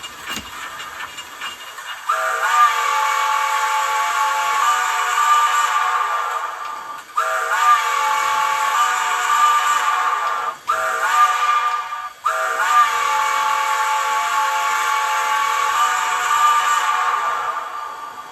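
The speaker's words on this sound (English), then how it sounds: "This is the lovely whistle that comes with the engine." A Rivarossi Heisler model steam locomotive whistle blows several long, loud chords, each sustained for seconds with brief gaps between, over a faint hiss.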